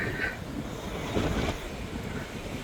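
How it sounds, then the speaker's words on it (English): Strong wind buffets the microphone in a steady, rumbling roar, with gusts rising and falling throughout and no voices. "Crap, it's very windy."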